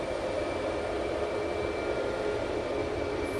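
Distant airliner taking off at Sydney Airport, a steady broad engine roar holding level throughout with no voices.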